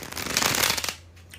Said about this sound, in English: Wow, that was a really good bridge shuffle